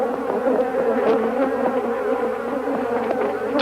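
Swarm of Africanized bees attacking and stinging a bag that holds a microphone: a dense, loud, close buzzing drone that runs without a break, with no voices.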